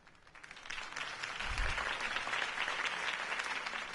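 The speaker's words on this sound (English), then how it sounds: "If only Mr. Wayne, my campaign's largest backer, could have heard that applause" A crowd applauds a campaign speech in Batman: A Telltale Series, a dense wash of clapping that swells and holds steady at a moderate distance.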